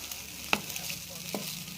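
A dish seasoned with black pepper being stirred in a pan, a soft steady sizzle with two distinct clinks of the spoon against the pan, close and without voices.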